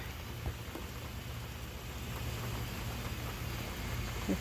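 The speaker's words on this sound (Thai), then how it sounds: "ฝนตกตลอด" Rain falls steadily over a vegetable garden, a dense even patter of drops on leaves and soil that swells slightly toward the end, with no voices.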